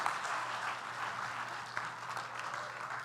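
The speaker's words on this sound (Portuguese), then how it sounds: "aplauda o Senhor" A church congregation at a women's congress applauds, a steady wash of many hands clapping at moderate distance, sustained without pause and with no voice above it.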